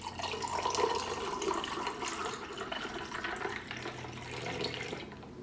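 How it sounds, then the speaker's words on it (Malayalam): Cold water pours steadily into a glass for ginger lemon juice, a continuous close splashing stream with no voices and a slight easing toward the end. "ഇതിലേക്ക് നല്ല തണുത്ത വെള്ളം ഒഴിക്കുക."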